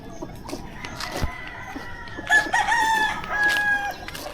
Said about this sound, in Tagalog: Meron pa pala ditong mga 5 manok.